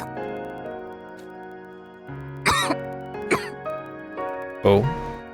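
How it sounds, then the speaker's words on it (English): A character in the video game The Hundred Line coughs in three sharp, separate bursts spaced about a second apart, close and loud over a soft sustained musical backdrop. "Oh, coughing."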